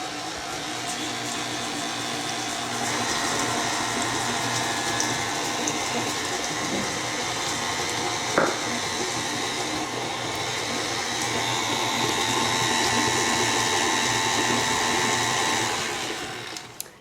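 An electric hand mixer creams cookie bar dough for a decadent chocolate chip bar, giving a steady, close whirring drone that runs nearly the full length with only slight shifts in pitch.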